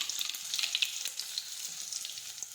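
Crushed garlic, mustard seeds and cumin sizzle steadily in hot oil, a close, bright crackling hiss with small popping spurts throughout and no voices.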